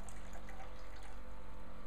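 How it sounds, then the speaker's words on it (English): Cold tap water pours into a tarantula's water dish until it overflows, a steady, faint trickling and splashing with no talk over it. "cold tap water, just overflow the water dish."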